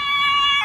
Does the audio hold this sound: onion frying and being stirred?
no